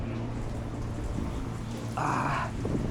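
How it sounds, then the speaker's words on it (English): Steady rain falls outdoors while someone works on a Ford Mustang S650 under a Hellion twin-turbo build, a continuous soft hiss with low background hum and a brief brighter burst of noise partway through. "And of course it's raining right now."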